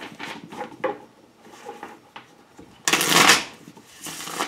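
Tarot cards are shuffled close by, with soft riffling and tapping, then a louder burst of rapid riffle shuffling near the end.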